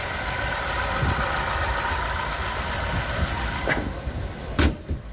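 Chevrolet Cobalt or Gentra car engine idling at an outdoor market in Andijan, a steady low rumble running throughout, near and fairly loud, with a couple of brief knocks toward the end.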